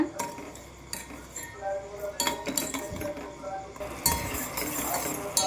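Stirring and frying in a pan for a birthday cake preparation, with a spoon clinking and scraping against metal in an irregular rhythm, close and fairly loud, and some bursts of stronger scraping.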